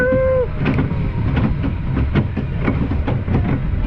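A kiddie choo-choo roller coaster train at Skyline Park in Germany runs along its track with loud, close rhythmic clickety-clack over a steady rumble, after a brief whistle-like tone at the start.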